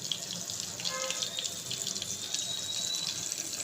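Water goes into hot oil holding stuffed bitter gourd tempered with mustard seeds, giving a steady, bright sizzling hiss that holds evenly throughout at moderate loudness.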